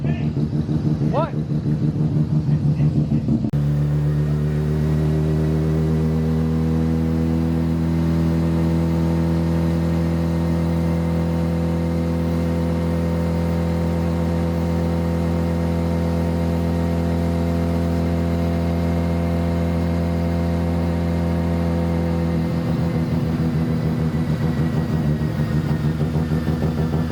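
A rotary-engine car runs on a dyno, holding a loud steady engine drone with strong harmonic tones for about twenty seconds after a rougher opening, then turning ragged near the end.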